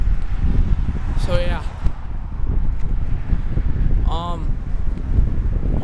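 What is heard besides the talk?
strong wind blowing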